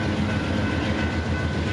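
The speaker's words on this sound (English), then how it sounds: "Keep this train in mind for later" A train rolls past on the rails near Houston, Texas, a loud, close, continuous rumble with rhythmic clatter from the wheels that holds steady throughout.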